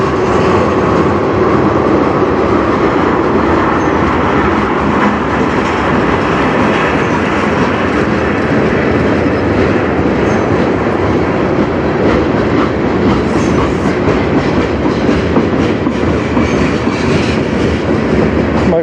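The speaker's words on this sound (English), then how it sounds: "My first train in about a week," A CN freight train rolls past on the Strathroy Subdivision, a loud, steady rumble of railcars with a continuous clickety-clack of wheels on rail joints that holds close and dense for the whole stretch, with no voices.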